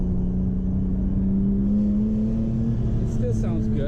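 A BMW E46 M3 engine hums and rises slightly in pitch as it revs, with its Row Engineering exhaust note under someone speaking close by.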